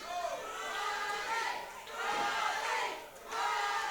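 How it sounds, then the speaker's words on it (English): Wrestling crowd at a live indoor event cheers and chants in rising, falling waves, distant and fairly faint, with a commentator talking over it. "However, the crowd definitely, as always, firmly behind Riley here tonight"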